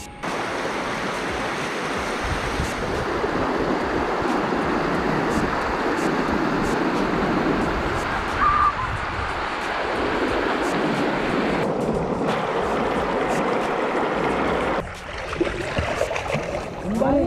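River water pours and splashes over big rocks at Kariyathumpara in Kozhikode, a dense, continuous rushing wash that stays loud throughout and dips briefly near the end.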